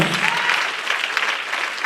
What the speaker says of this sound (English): put your hands together for your pastor